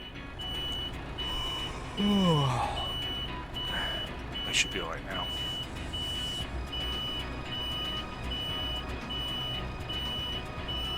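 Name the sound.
reversing beeps of a truck in Euro Truck Simulator 2 video game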